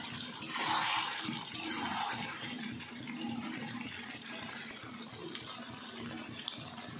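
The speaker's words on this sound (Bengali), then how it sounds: "এবার আমি জলটা দিয়ে দিচ্ছি" Water poured into a pot of braised chicken curry, making a steady gushing pour with a couple of sharp clinks at the start, fading gradually.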